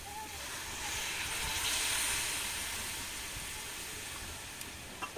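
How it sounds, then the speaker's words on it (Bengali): Water poured into a hot pan of thin stinging-catfish and potato curry sets off a soft, broad steaming hiss that swells, holds, then slowly fades, ending with a small clink. "নেড়ে চেড়ে এবার জল দিয়ে দেবো।"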